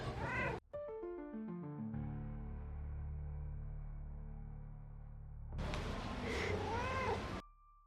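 A cat in the resort of Playa Blanca, Lanzarote, being stroked meows loudly and close, with drawn-out wavering calls at the start and again near the end, separated by a sustained tonal hum.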